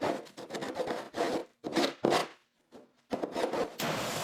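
A scraper grinds crusted rust and corrosion off a car chassis during a restoration. It makes close, rasping strokes in repeated bursts, separated by short pauses and a longer gap midway.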